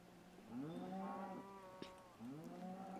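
Cows moo in the Minecraft video game, two drawn-out lowing calls with a short gap between them, fairly clear over quiet game ambience.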